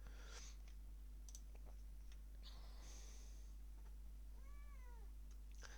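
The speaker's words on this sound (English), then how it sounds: "That's my cat. He's hungry." A hungry cat meows softly near the end, over a steady low hum with scattered faint clicks and sniffs.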